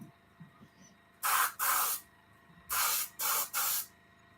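Airbrush spraying brown paint onto model kit parts, four loud bursts of airy hiss, each lasting around a third to half a second, with short pauses and faint handling noises between them.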